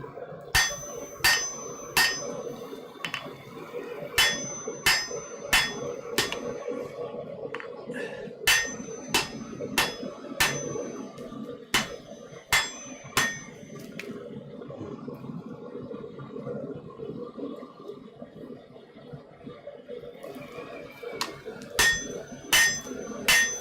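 Metal ringing hammer strikes on an anvil in a smithy, delivered in quick bursts of three to five blows with pauses between, close and clear.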